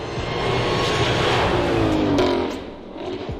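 A supercharged 5.2-liter cross-plane V8 muscle car roars past loudly, its engine note swelling and then easing away, with no talk over it.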